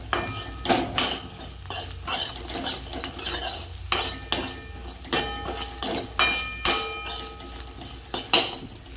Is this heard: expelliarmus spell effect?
no